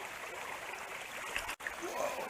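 Small mountain stream in the Allegheny Mountains, a steady close rush and trickle of water with a brief dropout in the middle.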